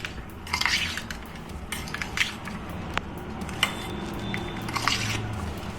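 A spoon mixes a soft cheese bread roll filling with tomato sauce in a bowl, with close, intermittent squishing and scraping clinks against the bowl and no talking.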